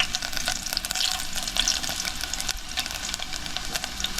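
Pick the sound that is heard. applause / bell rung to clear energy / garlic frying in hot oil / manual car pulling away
garlic frying in hot oil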